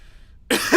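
A single sharp cough bursts out after a moment of near silence, close and loud, with a rough follow-through.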